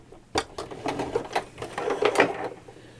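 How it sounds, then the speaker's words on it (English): A sewing machine stitches a seam on a large tote bag in short, rhythmic bursts of needle clatter that start and stop several times, close and fairly loud, with no talking. "So you sew 2 centimetres down, like that."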